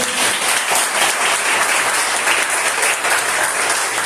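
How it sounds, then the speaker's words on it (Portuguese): A congregation at a pastor's birthday service applauds loudly and continuously, a thick wash of many hands clapping at once that stays strong and even from start to finish, with no talking heard. "Você pode aplaudir Jesus nessa noite?"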